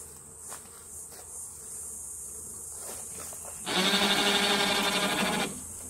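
Honey bees swarm loudly around an Australian backyard hive, a dense steady buzz swelling suddenly near the end after quieter ambient sounds.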